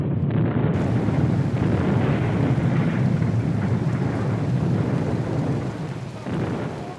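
Heavy rain pours steadily at an outdoor event setup in Kenya, with a dense, roaring hiss, loud and close, with wind buffeting the microphone and no voices.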